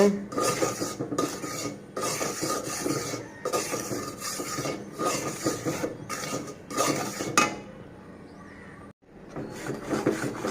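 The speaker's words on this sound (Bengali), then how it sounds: "আমি একটু চালের গুঁড়া ভেজে নিচ্ছি ভালো করে।" Rice flour dry-roasts in a pan, stirred with a utensil that scrapes and rasps in bursts, with metallic clatter and brief pauses between strokes.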